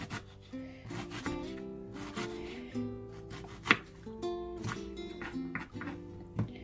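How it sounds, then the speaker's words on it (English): An onion being chopped finely with a knife on a board, a run of close, quick taps and scraping strokes in an uneven rhythm, with one sharper knock midway. "I'm gonna chop my onion. We're gonna use just finely chopped"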